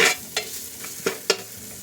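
Rice and spices being stirred in a frying pan for a quick Maharashtrian ghevda rice: a few soft, separate scraping strokes over a faint sizzle, close by, with no talking.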